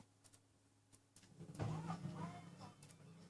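A car door and power window sound as someone gets into a car in a video game, with a soft click early on and then a louder, fuller mechanical rumble that swells and lingers.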